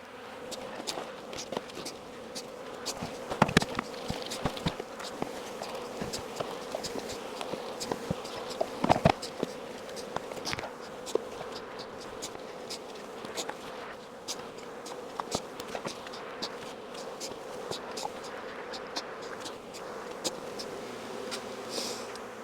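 Honey bees buzz busily around ten mini mating nucs set up for queens, a dense, constant hum with occasional louder passes near the ear and faint handling noises.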